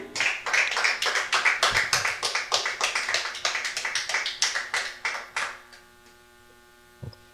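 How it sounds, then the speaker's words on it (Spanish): A church congregation applauds with steady, dense clapping for about five seconds, then it fades out, leaving a low electrical hum and one brief tap. "Bríndele fuertes palmas al Señor"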